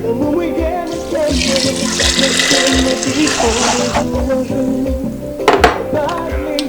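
Water poured into an Instant Pot holding cleaned beans while cooking Haitian food, a loud close pouring rush over a low hum, ending with a few light clinks of the pot.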